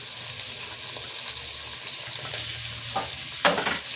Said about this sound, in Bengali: পেঁয়াজগুলোকে একটু ভালো করে ভেজে নিতে হবে